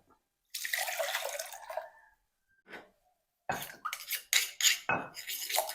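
Water splashes and pours as a mortar is rinsed in a Thai home kitchen, and the rinse water is kept for a curry. Short, close bursts of sloshing and trickling are separated by quiet gaps.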